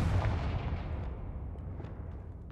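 Bombarda spell blast in Hogwarts Legacy, a single booming explosion with a deep rumbling tail that fades steadily over a couple of seconds, with a few faint crackles near the end.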